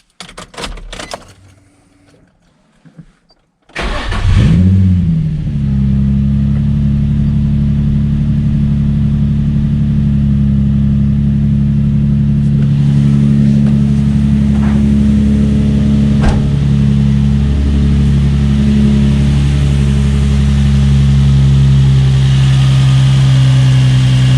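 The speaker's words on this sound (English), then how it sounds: "Give it a couple revs just to make sure it don't squeak" A Nissan 350Z VQ35DE engine with its idler pulley removed turns over and starts after a short rustle, then settles into a steady, loud idle with a brief rev partway through.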